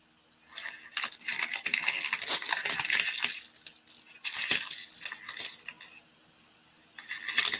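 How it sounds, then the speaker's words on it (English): Plastic bag crinkled close up in three bursts of crisp rustling and crackling, separated by short pauses. "Playing with a plastic bag."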